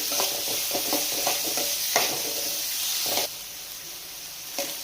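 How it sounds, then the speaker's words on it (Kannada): Onions frying in a pan for chicken fry, a continuous close sizzle with spatula scrapes and stirring clicks that quiet down partway through, no talking. "ಮೊದಲಿಗೆ ಈರುಳ್ಳಿ ಹಾಕೋಣ. ಈರುಳ್ಳಿ ಒಂದು ಸ್ವಲ್ಪ ಫ್ರೈ ಆಗಲಿ."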